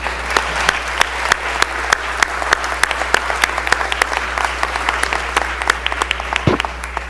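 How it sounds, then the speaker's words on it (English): Applause fills the Mississippi House chamber, a crowd of hands clapping in dense, uneven bursts that carry steadily throughout, fairly loud and close with no clear speech over it. "So let's all give them a round of applause."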